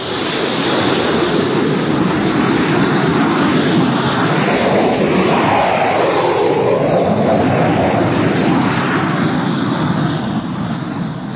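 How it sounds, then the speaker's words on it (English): Jet fighters take off from an airfield in a steady, loud, broad roar that fills the whole stretch and eases only slightly near the end, with no voices. "6 jet fighters were taking off from Hink Field"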